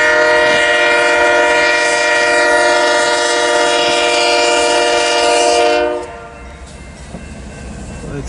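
A loud BNSF freight train horn blares for about six seconds over the rumble of the northbound train passing in Fremont, Nebraska, then cuts off, leaving steady rolling rail noise.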